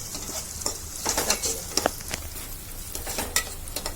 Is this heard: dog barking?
no